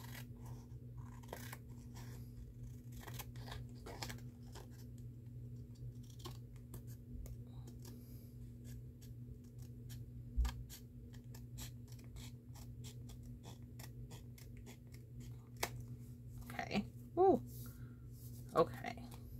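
Scissors snip through card stock, guided along the edge of a card base, in a quiet run of short, crisp cuts with a few louder snips near the end.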